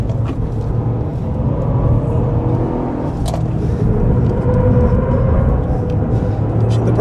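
A 2024 Toyota GR Yaris is driven hard on a race track in third gear, its engine a steady, loud, close rumble with a droning tone that rises and falls slightly throughout.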